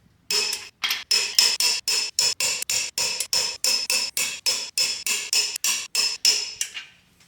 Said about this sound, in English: All right, let's torque these wheels.